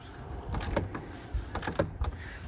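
A Snap-on ratchet clicks in short bursts at a scrapyard, its quick mechanical ratcheting repeating several times at close range.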